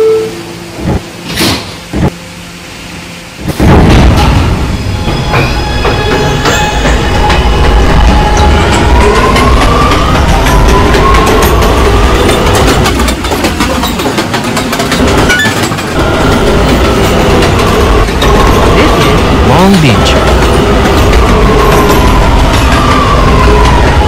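R211A subway train on an A Local run in the Roblox game, starting with a few short bursts before a loud, continuous roar of traction motors and wheels that rises and falls in pitch as the train moves.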